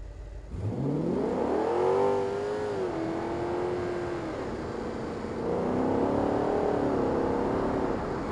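Car driving along a road toward a steel mill in the game BeamNG.drive, an engine that rises and revs, then settles into a steady whirring drone before climbing again, loud and continuous with no talk.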